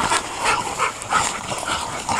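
A dog barks and yips in short bursts, several calls in quick succession with whiny edges, fairly close and loud.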